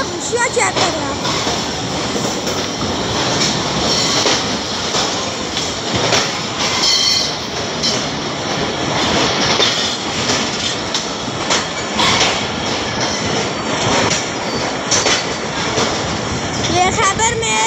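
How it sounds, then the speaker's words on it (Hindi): Khyber Mail passenger train from Karachi to Peshawar pulling into Rawalpindi railway station, a steady loud rumble of rolling coaches with wheel squeal and clatter under crowd noise and nearby talk throughout. "कराची से पेशावर जाने वाली ट्रेन खैबर मेल"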